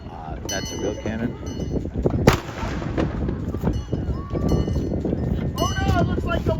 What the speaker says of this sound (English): That's a real cannon.